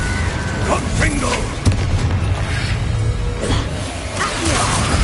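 In the Hogwarts Legacy video game a Confringo blasting spell goes off as a deep booming explosion with whooshing bursts and heavy low rumble, layered with other spell effects and a player's voice talking.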